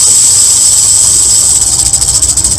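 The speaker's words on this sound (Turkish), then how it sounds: "Kadın son malzemeyi de devirdikten sonra karşısına kediler değil tıslayan bir yılan çıkıyor." A snake gives a loud, sustained hiss, close by and unbroken, with a slight pulsing toward the end.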